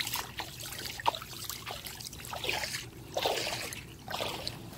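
A dog paws and splashes in shallow water, giving irregular trickling, sloshing bursts that are fairly close and moderately loud, with no voices in this stretch.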